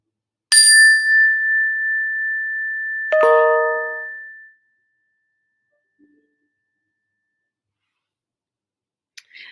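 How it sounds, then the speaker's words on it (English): Two bright chimes ring out one after the other, each a clear metallic tone that sustains and then fades to silence, followed by a couple of faint clicks near the end. "Focus in on the sound of the chimes, training your brain to focus."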